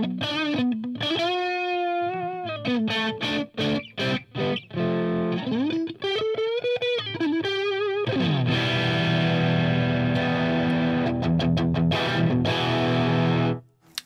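Electric guitar played through a Marshall JCM800 amp with a heavily distorted tone, sustained chords and bending single notes ringing loud and continuous for about fourteen seconds, cutting off abruptly at the end.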